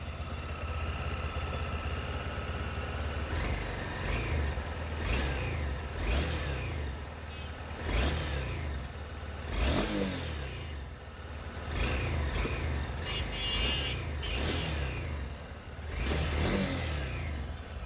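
A motorcycle engine idles with a timing chain rattle, a steady mechanical chatter close to the microphone, broken by several short blips of the throttle that rise and fall in repeated bursts.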